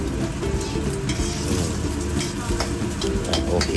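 Pork skin for crispy pork being fried and turned in hot oil, a loud, steady bubbling sizzle with scattered crackles and pops, close and uninterrupted.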